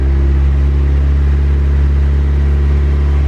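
A turbo Honda Civic engine idles high with a steady, loud, close drone and a constant even hum, with no talk over it.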